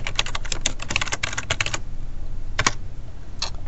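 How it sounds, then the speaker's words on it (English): Loud computer keyboard typing at close range, a rapid burst of clattering keystrokes followed by a pause and two short separate bursts, with no talking. "Not only do I have the loudest mouse, I have the loudest keyboard."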